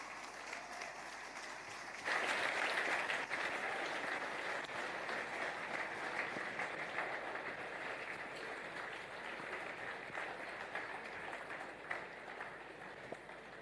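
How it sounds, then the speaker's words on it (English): Audience applause at a leadership and entrepreneurship talk, a soft room tone giving way to a sudden, sustained round of clapping from a seated crowd that holds steadily for over ten seconds, moderately distant. "Please give a warm round of applause for Ngozi Akinyele."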